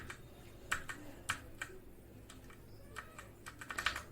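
Sparse key presses on a Cosmic Byte CB GK18 Firefly mechanical keyboard with Outemu Red switches, close clacks at irregular intervals, a few quick double taps near the end over a faint background hum.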